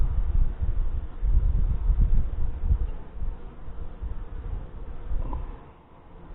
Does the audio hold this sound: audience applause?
no